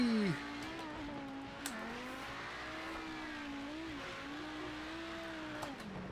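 Group B rally car engine in the Project CARS 2 racing game, a steady droning note rising and dipping as the car accelerates and shifts, loud and continuous with a brief squeal at the start.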